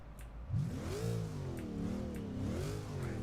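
A race car engine in Forza Motorsport 6 Apex revs and drones with rising and falling pitch, steady and fairly close, with no voices.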